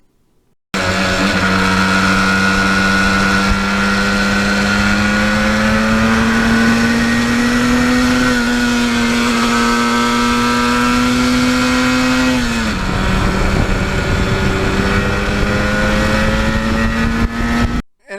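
A 1977 Yamaha RD400 two-stroke motorcycle, a Kenny Roberts replica, runs loud and close with a steady buzzing engine note that rises slightly, dips once, then holds for the length of the clip.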